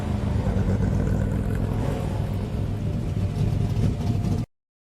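Roy's car in the film Asphalt Burning (2020) runs with a loud, close engine drone that rises and wavers like light revving, steady for about four seconds before cutting off sharply.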